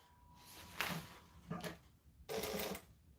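Sewing machine back stitching a fabric lining, three short bursts of rapid stitching separated by pauses, close and fairly quiet.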